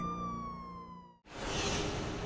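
A police car siren wails in a long, smooth tone that fades out, followed by a broad rushing sound like night traffic or wind.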